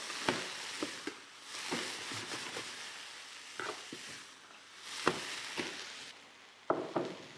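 Cranberries and California walnuts frying in a pan, a soft sizzle under repeated sharp taps and knocks as the pan and ingredients are stirred, close and moderately quiet, with no talking.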